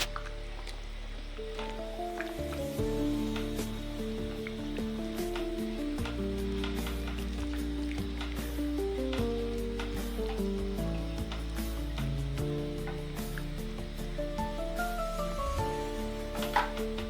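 Githeri with potatoes simmers and sizzles in a pot after water is added, with soft bubbling, squishy stirring and scraping of a utensil against the pot, steady and close under a faint background tone.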